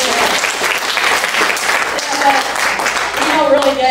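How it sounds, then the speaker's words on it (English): A church congregation claps together in steady, dense applause, close and loud, with voices mixing in and brief tonal vocal sounds near the end. "everybody clap for all the mothers"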